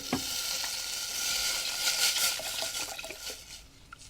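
Lentils cooking in veggie broth over a gas flame turned up high, giving a continuous, faint bubbling and sizzling with a few light clinks and ticks scattered through it.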